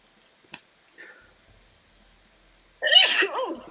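A single close sneeze bursts out near the end after a few faint clicks and near silence.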